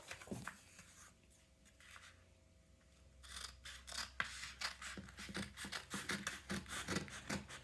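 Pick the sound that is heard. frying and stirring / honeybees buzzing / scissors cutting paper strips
scissors cutting paper strips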